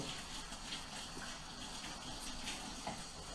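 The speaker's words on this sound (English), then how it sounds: "So we're going to wash our hands again." Tap water runs and splashes over hands being washed at a kitchen sink after handling raw meat, a steady, moderately quiet gushing with no talk.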